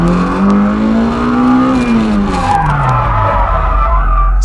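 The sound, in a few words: car drifting and skidding with e-brake pulled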